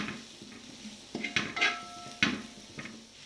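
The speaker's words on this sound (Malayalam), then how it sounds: "എന്നിട്ട് നല്ലതുപോലെ ഒരു ബ്രൗൺ കളറാവുന്നതുവരെ ഇളക്കുക" Curry leaves with turmeric and coriander powder being stirred in a pan for a home-style chicken curry, with a few scattered metal utensil scrapes and clinks over a faint background.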